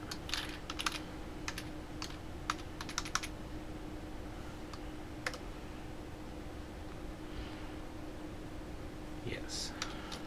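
A computer keyboard being tapped to type a Linux install command: a few quiet, scattered keystroke clicks in small bursts over a faint, steady room hiss.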